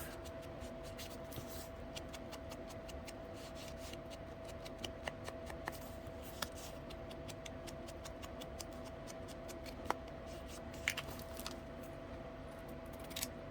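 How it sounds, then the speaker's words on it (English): Scissors snip the corners off paper for a handmade envelope booklet, a few faint, sharp clicks scattered through a quiet room with a low steady hum. "I'm just snipping off these little corners."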